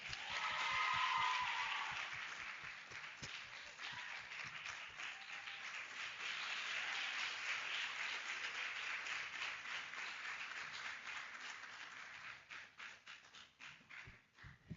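A crowd applauds at the African Science Academy's 2025 graduation ceremony. Dense, sustained clapping swells early and holds steady, then thins into scattered individual claps toward the end.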